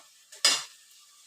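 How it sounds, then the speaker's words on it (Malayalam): A single quick scrape of sliced onions being stirred in a hot pan while they sauté, one short close stroke with a faint sizzle fading away. "സവാളയുടെ നിറം നല്ലവണ്ണം മാറുന്നത് വരെയും വഴറ്റുക."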